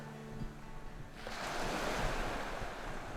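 Ocean waves wash onto a coastline, a steady broadband surf rush that swells in loudly after the first second and keeps roaring with wind noise against the microphone.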